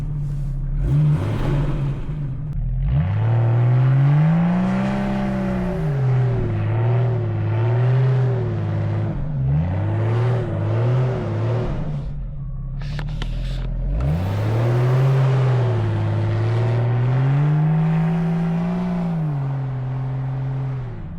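A stuck Jeep in 4 low revs its engine again and again, its pitch rising and falling in long surges, close and loud throughout.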